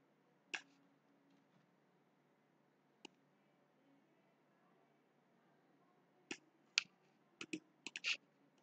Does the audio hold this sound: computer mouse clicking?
yes